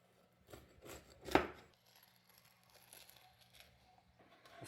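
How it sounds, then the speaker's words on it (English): An air-fried frozen pizza is cut up with a few quick, close crunching slices of crust, one sharp cut standing out, then quieter scraping. "We're going to slice it up real quick."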